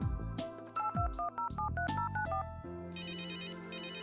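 A telephone rings in the Runaway: A Road Adventure video game, a bright electronic melodic ringtone of short tonal notes in quick sequence over a low musical backing, then shifting to a sustained higher chiming tone.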